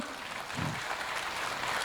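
An audience at a school's tenth anniversary event applauds children's speeches about freedom fighters, giving a steady, even wash of clapping that sounds somewhat distant and moderately quiet throughout.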